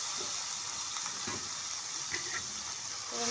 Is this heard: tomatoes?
yes